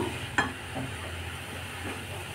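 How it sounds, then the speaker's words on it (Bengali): Food frying in a pan being stirred, a steady low sizzle with one sharp scrape of the utensil near the start, close by and moderately quiet, no voices. "এটাকে এভাবে নেড়ে নেব"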